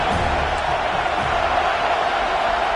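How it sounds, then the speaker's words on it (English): A football stadium crowd roars in a dense, steady wash of cheering and noise early in the game, sustained throughout without distinct pauses. "This crowd bringing the energy and noise early."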